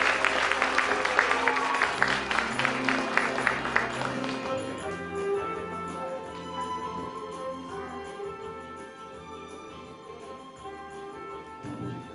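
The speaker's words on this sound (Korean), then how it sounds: "박수 크게 쳐주세요." Applause from an audience at a Korean literary talk event rolls through the room for several seconds, loud and dense at first, then thinning and fading as music and a voice take over.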